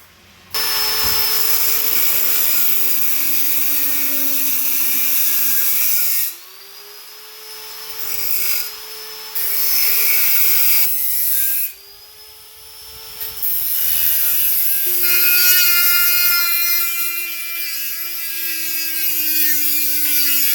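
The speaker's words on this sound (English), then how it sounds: "I'm getting ready to cut that hole out that I just showed you. So let's get ready for this. It's going to be loud." A loud power tool grinds and cuts nearby in long bursts, its whine rising and dropping as it bites, with brief pauses between passes.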